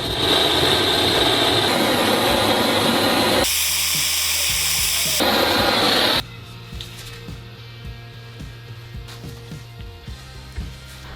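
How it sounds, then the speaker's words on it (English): A blowtorch roars in a loud, steady hiss while heating a seized track rod end, then cuts off abruptly, leaving quieter scattered clinks and workshop sounds. "So maybe the blowtorch is going to get a bit of use after all"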